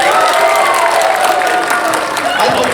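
Audience applause and cheering from a crowd at a fan festival Q&A panel, a dense steady roar of clapping filling the room, with voices mixed in throughout.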